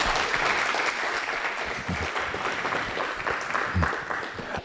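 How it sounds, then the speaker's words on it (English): A room full of people at a gaming hackathon winner announcement gives a steady round of applause, dense rapid clapping that holds evenly for several seconds at moderate distance. "Let's give them a round of applause."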